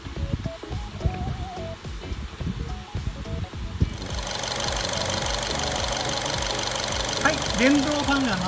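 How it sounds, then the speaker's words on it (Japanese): A Nissan Lafesta B30 engine idles with a steady rhythmic knock, and partway through the electric radiator fan starts up, adding a loud, even whooshing roar over the engine. "電動ファンが回りましたので完全暖気完了です"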